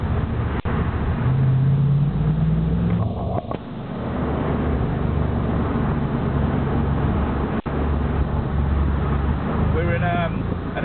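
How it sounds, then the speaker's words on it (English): A Mercedes SL55 AMG descends the narrow, tunnelled southern slope of the Stelvio Pass behind a Porsche Boxster, its engine a steady low drone with brief surges, heard from inside the car under speech. "We're in an SL55 AMG."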